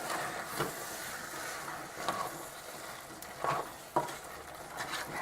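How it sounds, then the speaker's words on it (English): Drained chickpeas stirred into a frying masala in a pan, a faint sizzle with soft spoon scrapes and a few clinks against the pan, no talk. "I'm adding the beans now. Drained beans. Then mix it thoroughly."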